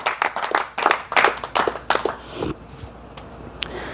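Congregation clapping in a church service, a series of loud, distinct rhythmic claps close by, then thinning into sparse scattered claps over a quieter room tone.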